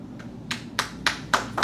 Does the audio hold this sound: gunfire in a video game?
no